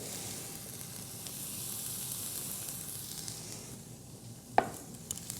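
Butter sizzles in a pan as it browns and caramelizes for a meat ravioli dish, a steady crackling hiss with one sharp clink of a utensil near the end.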